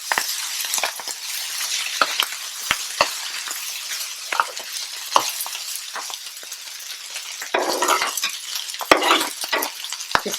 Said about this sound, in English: frying is also imparting a lovely smoky flavor to the fried rice